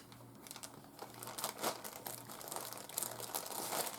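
Plastic packaging for garden items crinkles and crunches steadily as it is handled and cut open, with sharp rustling bursts throughout.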